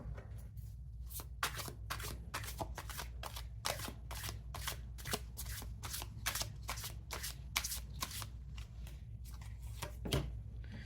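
Tarot cards being shuffled by hand in a steady run of crisp, riffling slaps, repeating close and clear with no talk over the shuffling.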